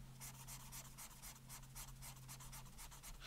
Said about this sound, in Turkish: Şurayı böyle koyu bir kalemle çizeyim.